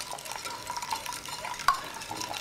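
Hot water being stirred into a flour paste batter for mounting Chinese paintings, a soft continuous scraping and sloshing with small clinks against the bowl, one sharper tap near the end.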